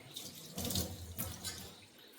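A cloth is dipped and swished in a bowl of cold water before wiping a face, giving soft, close splashing and trickling that swells briefly and fades, quiet with no talk.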